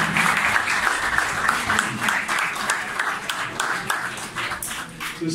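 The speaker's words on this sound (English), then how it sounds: "Please have a big round of applause for the Chancellor of GSC." A big round of applause for the chancellor at an English department welcome party at Govt Superior Science College Peshawar, dense clapping sustained throughout, loud and close, gradually thinning toward the end.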